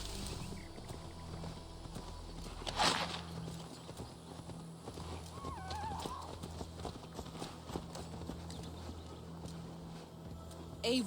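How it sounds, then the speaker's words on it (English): A horse's hooves clip-clop at a steady, even rhythm while being ridden in the video game Assassin's Creed Valhalla, with a brief voice-like sound midway over a low ambient background. "Can you hop on the horse now?"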